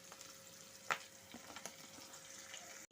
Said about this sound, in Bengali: ওই তেলের মধ্যেই দিয়ে দিচ্ছি পেঁয়াজ কুচি